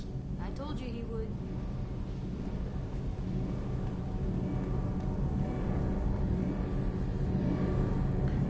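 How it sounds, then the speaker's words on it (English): A starship's big engine in Mass Effect 2 gives a steady, deep rumbling drone with a low hum, running evenly throughout while a voice speaks over it. "That's one big engine."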